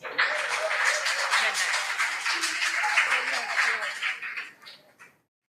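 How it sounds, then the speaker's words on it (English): An audience at a school quiz competition gives the contestants a round of applause, dense and steady clapping that tapers off and stops near the end, with some voices mixed in. "Shall we give them a round of applause?"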